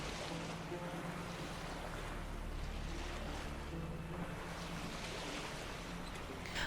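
Boat sailing on the sea in The Witcher 3, a continuous low rush of waves and wind with a steady engine-like hum beneath, even and unbroken throughout.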